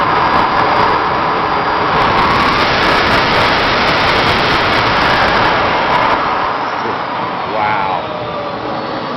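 A small RC jet motor runs steadily just under half throttle, a loud continuous broadband roar with a faint high whine, easing slightly toward the end.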